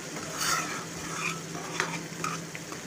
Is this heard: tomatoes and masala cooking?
yes